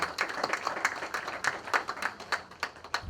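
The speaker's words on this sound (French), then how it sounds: "Sous vos applaudissements" A modest audience at an African writers' day celebration applauds, with distinct individual claps forming a loose, uneven rhythm at moderate loudness in a room.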